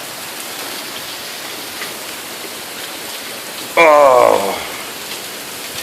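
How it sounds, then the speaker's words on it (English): Heavy rain pours down during a storm on an old homestead, a dense, loud, steady hiss of water, broken near the end by a brief startled exclamation from a voice. "that's some rain and a half"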